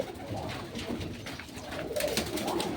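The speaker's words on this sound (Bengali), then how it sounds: "কবুতরের ফার্ম, তারপরে আরো দেখবো আরো আছে" Soft, repeated cooing of pigeons at a pigeon farm, several overlapping low calls close by with some rustling.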